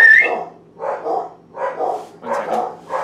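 Dogs barking in a run of four evenly spaced, rough, mid-pitched barks, loud and close, with a brief higher yip at the start and nobody talking over them.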